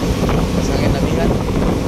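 Strong wind buffets the microphone at sea off Cebu near Sibuli island, a loud continuous roar with rough gusting low rumble that stays heavy throughout, with no clear voices.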